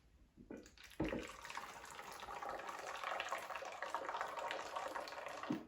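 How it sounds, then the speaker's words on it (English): A Sawyer squeeze-type water filter is back-flushed by squeezing water through it in reverse, making a steady, close hissing trickle of water that runs for about five seconds after a soft bump at the start. "And then I'll just back flush it."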